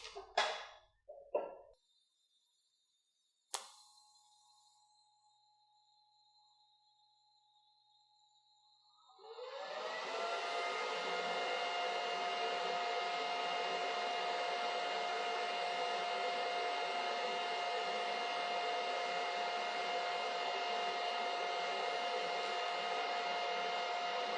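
TIG welding on 1/8 inch material at about 90 amps with a stubby gas lens setup: after a few brief clicks and a sharp strike, a steady, loud, even arc hiss and hum runs continuously to the end, with no voices.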